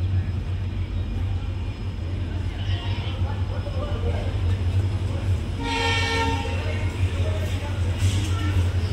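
Vivek Express train at New Bongaigaon station, a loud, steady low rumble of the train close by, with a horn blast sounding in the middle and station noise around it.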